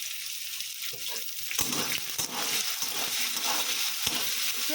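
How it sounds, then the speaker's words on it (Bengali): Onions fry in a pan with a continuous bright sizzle that swells louder partway through, punctuated by a few stirring clicks and scrapes, with no voices. "পেঁয়াজটাকে আমি একটু ভালো করে ভেজে নেবো, লাল লাল করে"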